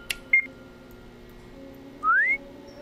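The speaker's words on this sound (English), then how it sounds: "Did he just whistle?" A character in the horror video game Madman whistles: a brief short whistle near the start, then a clearer upward-sliding whistle a moment later, both distinct over a quiet low ambient drone.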